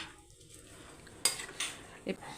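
Coconut milk is stirred into a prawn and drumstick curry in a pot, with a few soft spoon taps and scrapes against the metal rising out of a faint, quiet background.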